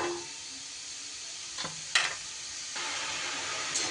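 Washed ajwain seeds sizzle in a kadai on a gas stove, a steady hiss with a few scraping stirs. The sizzle grows louder partway through, close and alone with no talk.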